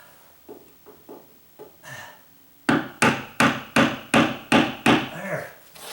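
Hammer tapping on a screwdriver against wood during condo storage work: a few light, spaced taps, then a run of about eight louder, evenly paced knocks, close and dry.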